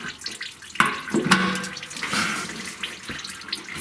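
Fuel trickles and splashes unevenly out of a 1957 Chevy fuel tank, with a few sharp knocks and drips in a short, close burst.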